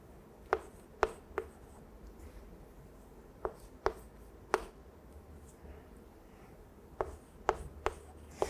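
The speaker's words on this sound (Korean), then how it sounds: "제가 미리 다 써보겠습니다." A pen or pencil writing by hand on paper during a Korean math-data lesson: sparse, quiet scratchy strokes and taps spaced irregularly over steady low room noise, with no talking.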